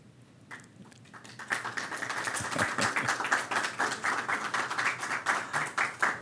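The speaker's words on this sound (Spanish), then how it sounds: "Muy amable por el aplauso." Audience applause after a talk on peace, beginning as a few scattered claps and quickly building into steady, fairly close clapping from a modest crowd that continues to the end.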